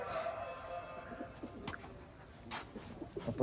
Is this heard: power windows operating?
no